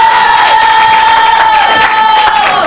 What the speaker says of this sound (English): And clap for the English contestant.